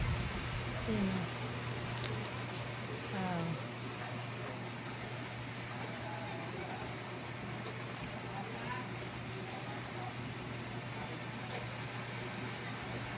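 Steady rain falls outdoors in windy weather, a continuous even hiss with faint patter, while a voice speaks softly at moments early on.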